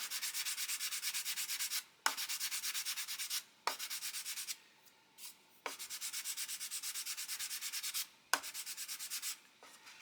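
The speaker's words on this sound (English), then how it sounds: "just let the sander do the work" A small sander works across the wing of an Airfix 1/72 Vulcan plastic model in repeated strokes of a second or two, each a soft rasping rub with brief pauses and clicks between them, with no talk.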